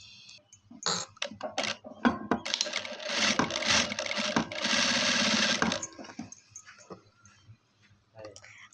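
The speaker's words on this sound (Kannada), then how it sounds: "ಇದು ಬ್ಯಾಕು ಎಡ್ಜ್ ಸ್ಟಿಚ್ ಆಗ್ತಾ ಇದೀನಿ ನೋಡಿ ಫ್ರೆಂಡ್ಸ್" A sewing machine stitches along a fabric edge, giving a close, loud, continuous mechanical whirr for about three seconds, framed by clicks, handling sounds and someone speaking before and after.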